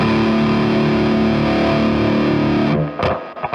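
Heavily saturated electric guitar played through the Nembrini MRH 159 plugin with its brown sound mod engaged, a loud, thick sustained chord followed by a couple of short choppy strums at the end.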